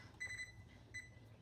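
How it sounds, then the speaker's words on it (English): A kitchen timer beeps in two short bursts of high electronic tones, fairly quiet, with a low steady hum underneath. "So the timer's going off"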